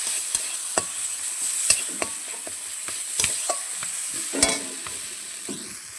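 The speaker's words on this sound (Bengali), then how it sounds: "ভালো করে এটা আরও ভালোভাবে লাল লাল করে কষিয়ে নেব।" Masala with chili powder fries in a pan, sizzling softly under repeated scrapes and clicks of a spoon stirring at an uneven pace, close by with no talk.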